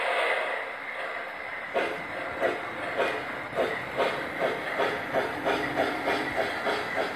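Polar Express S gauge model train running on a DCC layout, its sound effects giving a steady rhythmic chuffing steam exhaust over a constant hiss, moderately faint and with no talking.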